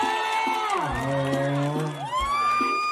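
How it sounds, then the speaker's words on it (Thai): A crowd at the Loy Krathong opening ceremony in Chong Sarika, Lop Buri, cheers with sustained shouting and whooping voices over faint clapping, loud and continuous throughout. "ขอเสียงปรบมือดังๆให้ดังๆนะพวกเราทั้งสิบสามู่เเลย"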